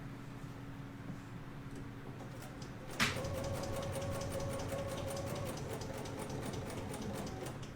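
A BERNINA sewing machine stitching quilt binding starts up after a quiet stretch and runs steadily at close range, a rapid even needle rhythm with a motor hum underneath.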